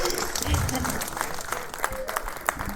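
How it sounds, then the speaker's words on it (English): Applause for a pianist's stripped-down performance, a dense burst of clapping heard under and alongside people talking, fairly close and steady through the whole stretch. "Applause to the pianist."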